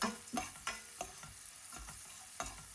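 Garlic fries in hot oil with a soft steady sizzle, broken by a few scraping stirs of a spoon in the pan, close and quiet, with no talking.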